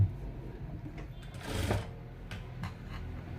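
Sewing machine stitching blouse fabric, a short close burst of rapid mechanical whirring and clatter in the middle, with a few softer clicks before and after.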